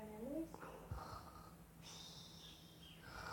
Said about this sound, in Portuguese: Nossa, ela ronca mais do que eu.